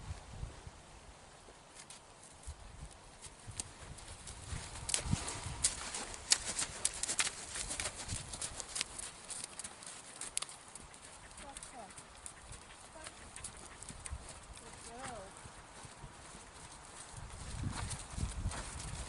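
Horse hooves clip-clop on the ground in uneven steps during in-hand groundwork, faint to moderate and close, with birds and outdoor noise around.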